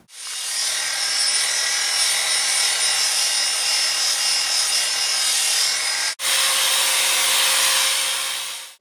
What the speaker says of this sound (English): We're going to start out with a 200 resin diamond pad on our wet grinder first.